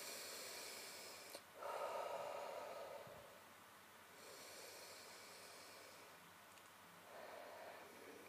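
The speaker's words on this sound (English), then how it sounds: "Two big breaths." Two deep breaths drawn in and blown out slowly during a tapping relaxation exercise, soft and close, with quiet rushing exhalations and no talking.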